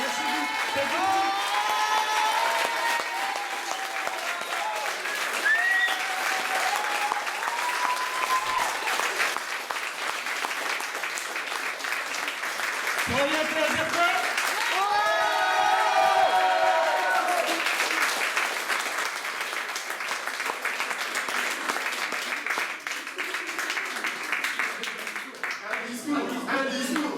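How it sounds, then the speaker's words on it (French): A large audience gives a long, sustained standing ovation, with dense applause and scattered cheers and shouts holding steady at full strength for nearly half a minute, while voices mix in throughout. "je vais vous demander de leur faire une ovation, même pas des applaudissements, une ovation"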